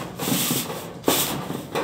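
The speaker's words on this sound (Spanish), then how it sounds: "Bueno, ahí está sacudiendo Mari ya." A corrugated roofing sheet is brushed and dusted off before being nailed down, making rough, repeated rubbing and scraping strokes close by, with a sharper knock partway through and no talk.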